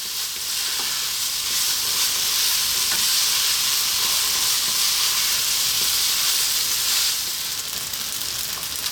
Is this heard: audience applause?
no